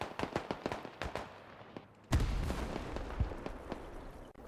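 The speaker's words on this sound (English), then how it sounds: "there's mortars impact" Mortar shell impacts in the war game Clash of Nations, a string of sharp distant cracks followed by a louder booming hit with rolling rumble and scattered further pops.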